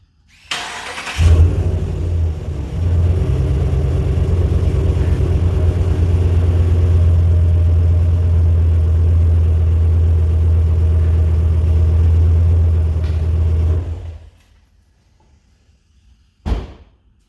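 A Ram Warlock pickup truck engine cranks and fires, then settles into a loud, steady idle with a deep low rumble for about twelve seconds before shutting off, followed by a brief thump near the end.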